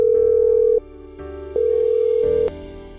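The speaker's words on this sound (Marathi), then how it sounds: "सत्यजितने पुन्हा त्याचा मोबाईल घेतला आणि एक फोन लावला." Outgoing mobile phone call ringback tone: steady electronic tone bursts that switch on and off in a repeating pattern, clear and alone with no voices.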